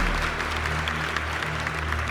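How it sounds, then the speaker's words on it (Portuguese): A church congregation claps together for about two seconds, a steady patter of applause at moderate distance with no talking over it. "E pode aplaudir ao nome do Senhor aí."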